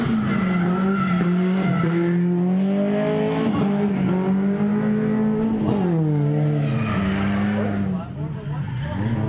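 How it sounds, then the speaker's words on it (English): Drift cars at a race track wail past with loud, rising and falling exhaust notes and sustained tire squeal, sweeping through several passes; a voice talks intermittently underneath. "I feel like these cars are getting louder and louder."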